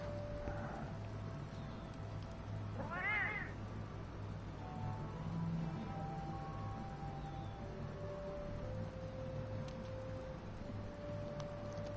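One short meow from a cat in the game Monster Hunter World rises briefly over a steady hum and background noise, faint and somewhat distant, with occasional light tonal sounds afterward.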